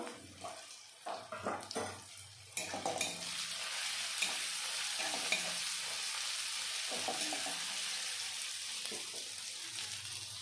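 Ground coriander and chilli powder fry in a pan for a village-style bird meat curry, with a few stirring scrapes at first, then a steady loud sizzle running throughout.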